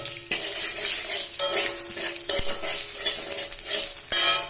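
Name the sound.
cumin seeds added to hot oil, sizzling while cooking lentils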